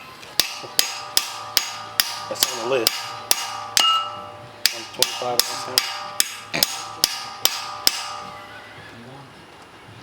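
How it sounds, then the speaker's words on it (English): Sharp metallic hammer strikes ring out in a steady, rapid series of about twenty blows, with a short pause midway and brief speech mixed in. "I can hammer the shit out of it."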